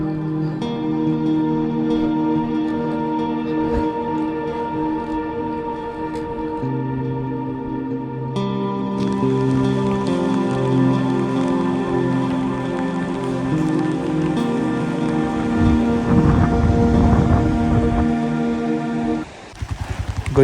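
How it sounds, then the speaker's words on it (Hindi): Rain pours during a solo motorcycle ride near Gorikot on the way toward Burzil Pass, a steady wash of drops over the bike's droning engine hum that rises toward the end. "ये देखें जी, बारिश तो ऐसा लग रहा है कि हटने वाली नहीं है"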